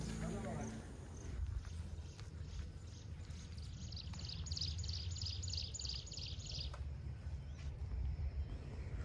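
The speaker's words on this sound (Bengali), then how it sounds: "পাখির ডাকে সকাল হলো পরের দিন।" Birds call and chirp in the morning around a forest nature camp at Rabandhara, Odisha, with bright repeated chirps in the middle of the clip over a steady low background rumble.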